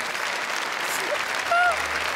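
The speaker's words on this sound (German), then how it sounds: "Leute, wenn ihr lauter klatschen wollt," An audience at a magic show applauds, a broad, steady clatter of many hands with brief voices and whoops rising above it.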